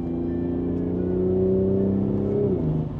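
A Toyota Supra Mk5 engine hums steadily, its pitch climbing gradually in a smooth rev before dropping off near the end, heard up close with no talking.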